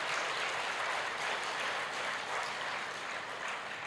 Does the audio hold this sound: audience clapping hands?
yes